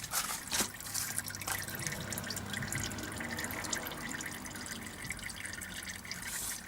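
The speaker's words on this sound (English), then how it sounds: "Still dripping slowly." Engine oil drips slowly from the drain plug of a Holden VE Commodore V6 Alloytec during an oil service, faint, irregular drips over a low steady background with no talking.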